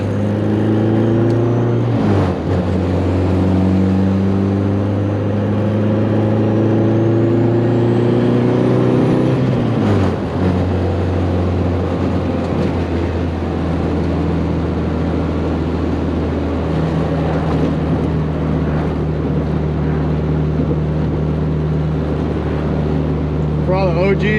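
A car with a B20v turbo engine driving hard, its engine drone loud and steady throughout with rising and falling revs and a brief dip near ten seconds.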